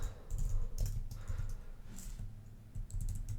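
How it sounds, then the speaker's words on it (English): Computer keyboard typing while adding constraints in iOS Swift code: a quick, irregular run of close, crisp key clicks with no talking. "I'm just going to type this out real fast"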